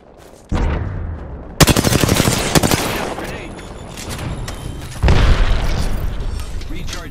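Loud, sustained automatic gunfire in the video game Apex Legends during a 3v3 arena match, with rapid bursts, booming impacts and in-game voice lines over the shooting.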